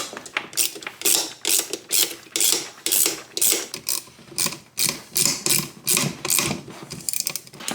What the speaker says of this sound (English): Okay, now we just tighten. That's all we have to do, tighten them down.